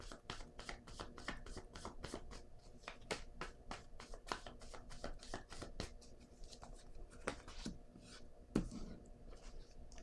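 Oracle cards being shuffled for a card reading, heard as soft, rapid, repeated riffling and flicking taps at close range, fairly quiet and steady, with no voice over them.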